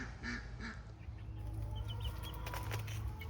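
Chickens in a backyard, with young chicks among the larger hens, give short clucks and calls over a low steady background hum, the calls clustered early and scattered through the rest.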